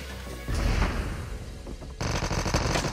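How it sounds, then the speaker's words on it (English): Rapid automatic gunfire from a Call of Duty Mobile match, dense bursts of crackling shots and booms that stop briefly and then resume hard, loud and up close. "Shots fired"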